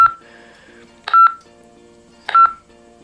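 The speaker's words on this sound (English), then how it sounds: "Oh look, Roger beep." Roger beep tones from a T-388 walkie-talkie: two short, loud electronic beep bursts about a second apart, each a brief chirped tone cluster, over a quiet background with faint hum.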